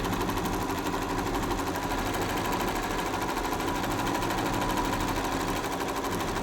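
Computer embroidery sewing machine stitching a border design, a continuous dense mechanical whirring and rattling at a steady loud level with no pauses.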